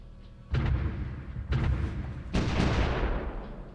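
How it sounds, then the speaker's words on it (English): Artillery in the strategy war game Supreme Ruler Ultimate fires three heavy booming blasts about a second apart, each one loud and close with a rumbling decay, and the last one is the biggest and longest. "they're currently tasting their own medicine with the artillery spam"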